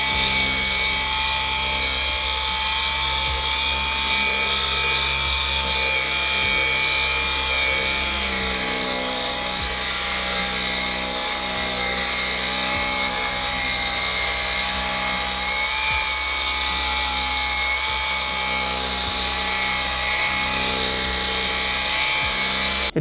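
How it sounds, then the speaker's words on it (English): A Ryobi polisher fitted with a cutting pad buffs a heavily sanded car panel, producing a steady, loud whirring drone that runs without a break for the whole stretch. "I'm gonna be putting it on the cutting pad on my Ryobi"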